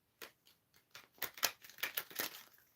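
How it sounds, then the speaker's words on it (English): A deck of numerology cards is shuffled by hand, giving a quick series of soft, crisp riffling snaps that grow louder and denser toward the end, close and alone with no talk. "Let's gonna just shuffle these cards together."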